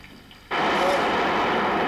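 Heavy storm rain begins suddenly and then keeps up a steady, dense hiss of falling water, loud and close, with no voices.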